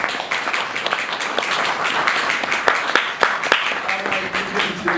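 An audience applauds at a 2016 book launch for a folklore volume, a dense, steady wash of many hands clapping that runs unbroken through the whole stretch at moderate loudness.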